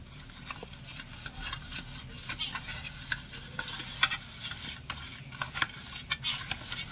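Ghee is rubbed around the inside of a cake mould for a semai malai cake, making soft, repeated close scraping and rubbing strokes at a low, steady level.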